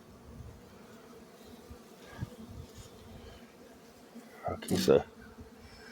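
Honeybees work around a hive box during spring swarm season, a faint steady buzzing hum running throughout beneath a few brief spoken words and a louder bump near the end.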